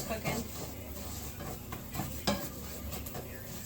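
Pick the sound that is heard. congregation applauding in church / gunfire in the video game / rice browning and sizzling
rice browning and sizzling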